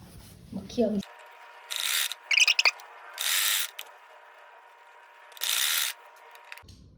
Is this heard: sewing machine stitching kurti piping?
yes